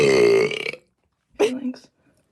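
A loud, drawn-out voiced burp rings out for most of a second, then after a pause a shorter voiced sound follows briefly.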